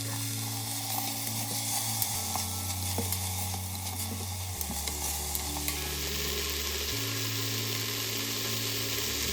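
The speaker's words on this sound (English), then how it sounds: "So you can hear it's already starting to kind of saute up." Curry oatmeal ingredients sauté in a pan on the stove, giving a steady close-up sizzle with soft scraping and stirring throughout, plus a low, even hum underneath.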